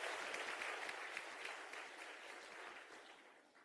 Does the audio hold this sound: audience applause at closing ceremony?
yes